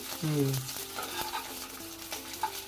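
Veg seekh kababs fry in oil in a pan over a low flame, crackling with a steady sizzle and a few small pops and clinks. A voice speaks briefly at the start.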